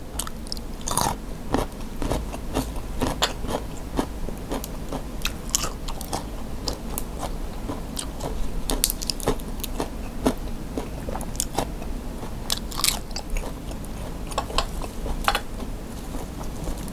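Young turmeric and fresh vegetables, eaten with a Phatthalung-style blue crab chili paste, are chewed close to the mic, giving repeated crisp crunches and wet bites over a long stretch with faint clinks of dishes and no talking.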